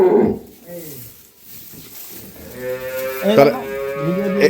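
A dairy cow lets out deep, drawn-out moos, one near the start and a longer one toward the end, with voices murmuring around it on a farm in Feni.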